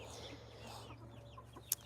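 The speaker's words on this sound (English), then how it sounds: "I think that one's a rooster." Quiet clucking from a rooster on a farm, with soft scattered calls and one brief sharp peak near the end over a low background hum.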